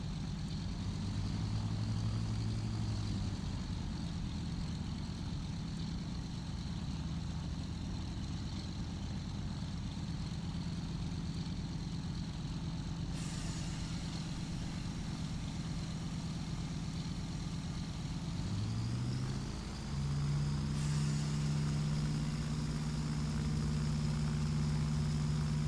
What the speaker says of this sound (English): Just line up with the runway and push the throttle forward all the way.